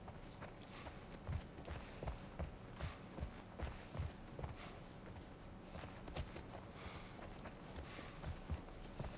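A horse's hooves clop at a steady walking pace in The Last of Us Part I, soft regular thuds at moderate distance over a quiet outdoor ambience.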